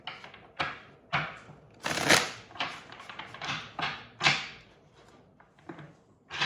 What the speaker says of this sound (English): Okay, they want me to shuffle again.